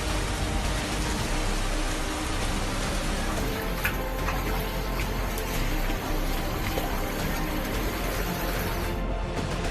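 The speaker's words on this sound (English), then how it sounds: "Severe flooding in Zacatecas." Floodwater during severe flooding in Zacatecas, Mexico, a continuous dense rushing and hissing wash with scattered splashy spatters, steady and loud throughout with no voices.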